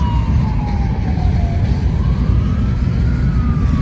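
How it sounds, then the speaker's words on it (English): A loud ambulance siren wails in slow rising and falling sweeps over heavy low engine rumble, continuous and nearby. "Ambulance."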